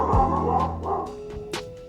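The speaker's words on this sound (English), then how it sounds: "You just heard the dogs warning you as well." Dogs give a few short, sharp barks and yips in quick succession. They sound fairly close and clear, with a small whimpering tone between the barks and no talking.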